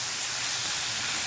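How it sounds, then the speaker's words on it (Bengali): Water poured into a hot pan of butter chicken gives off a loud, steady hiss of steam, continuous and close throughout the short moment. "এবার আমি এটা জল দেবো, সামান্য পরিমাণ জল দেবো"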